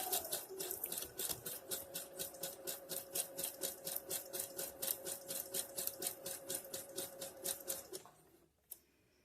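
A sewing machine running a back-and-forth securing stitch on stretchy fabric for DIY shorts, a fast regular needle rattle with a faint motor whine for about eight seconds, then stopping to near silence with one small click.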